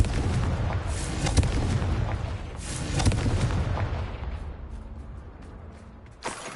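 Confringo and Bombarda spell explosions in Hogwarts Legacy boom over a dense rumbling barrage, with repeated heavy blasts, then fade toward a quieter tail and a final burst.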